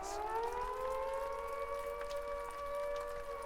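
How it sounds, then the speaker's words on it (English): A siren wails steadily in the distance, a long sustained tone that rises slightly and holds over faint background hiss. "What's that siren for?"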